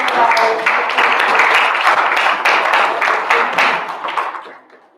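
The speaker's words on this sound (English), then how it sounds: "Let's give them a round of applause for helping us out" An afternoon school assembly audience claps for their teachers: dense, steady applause from many hands that holds strong for about four seconds, then thins and fades out at the end.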